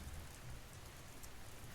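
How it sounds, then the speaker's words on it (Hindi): Raindrops drum softly and continuously on a roof on a quiet rainy night, an unbroken hiss of falling water with no speech. "छत पर गिरती हुई बूंदों की आवाज"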